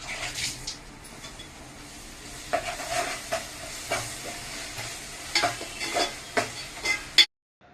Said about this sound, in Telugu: తర్వాత అల్లం వెల్లుల్లి పేస్ట్ వేసుకుని వేయించుకుందాం